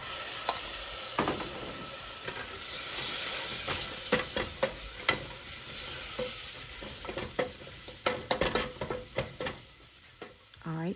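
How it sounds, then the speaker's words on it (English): Vegetables sauté in a hot pan for shrimp étouffée, a constant loud sizzle broken by repeated sharp scrapes and knocks of a spoon stirring, with the strokes growing quicker toward the end. "just let that saute for a minute or two"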